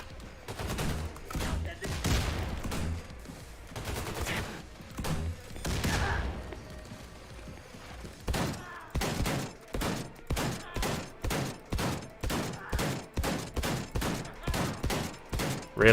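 Shotgun fire in the video game Wolfenstein: The New Colossus comes as a dense stream of sharp blasts, ragged at first and then settling into an even, rapid rhythm of repeated shots.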